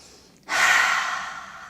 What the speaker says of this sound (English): And then take another deep breath.